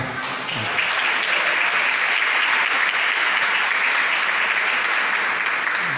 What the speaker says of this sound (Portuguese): convidar a igreja a oferecer uma salva de palmas ao Senhor